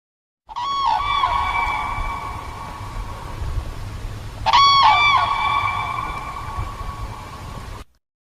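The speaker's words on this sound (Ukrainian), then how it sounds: "Журавель." A crane gives two loud, trumpeting calls about four seconds apart, each a long, ringing, slightly wavering honk that carries over a soft background hiss.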